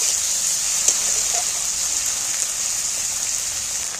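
Tomatoes and onions frying together in oil in a pan, giving a steady, close, continuous hiss and sizzle with faint crackles throughout, no voices.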